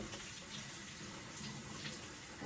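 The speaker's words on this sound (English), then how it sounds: "I'm going to rinse it again" Tap water running steadily while food is rinsed for tacos, a faint continuous hiss and splash close by with no talking.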